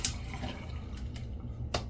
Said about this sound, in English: let's get some water in here